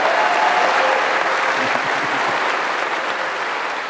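A large crowd at a State of the University address applauds faculty members, the clapping loud, dense and continuous for several seconds with no talk over it.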